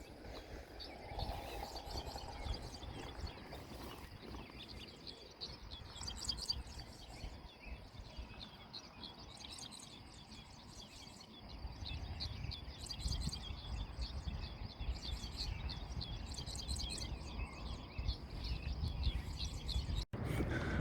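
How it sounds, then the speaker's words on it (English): Morning birds chirp and tweet continuously at a moderate distance, overlapping calls over a quiet outdoor background during a morning in Pella, Iowa. "Got these morning birds, sound kind of weird."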